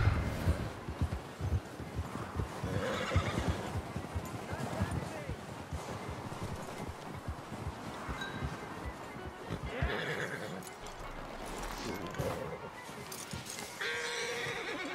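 Horses whinny and hooves clip-clop in the Red Dead Redemption video game, with neighs rising over ambient game sound while voices talk throughout.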